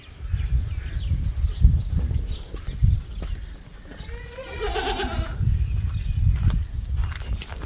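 Goats in a village yard bleating while waiting to be fed grass, several wavering calls rising over shuffling movement and low background noise, one prominent bleat in the middle.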